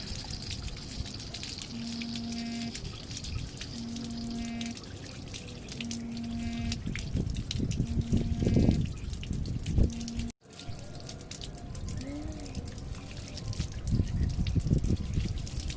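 Water runs from a tap, purging trapped air after filter work, with repeated sputtering bursts of air, gurgling and spitting in irregular spurts, close by with a steady watery background.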